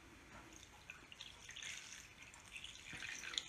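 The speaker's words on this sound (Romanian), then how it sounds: "să-l umplem aici în vas cu apă până ajunge cam la 3 sferturi" Water running from a tap into a cooking pot, filled to about three quarters full, a steady close trickle and splash with no talk.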